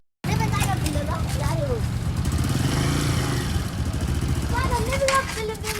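A motorcycle engine starts up and runs with a steady, uneven throb, then sags as it stalls toward the end, while voices talk over it.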